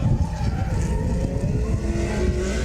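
Drift cars at a round of MB Drift 2025 roar past with tires squealing as they slide. The sound is loud, continuous engine and skid noise with no talking.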